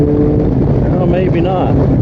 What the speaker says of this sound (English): Is that the clutch slipping?